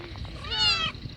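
A single clear cat meow, rising and falling, over faint background noise.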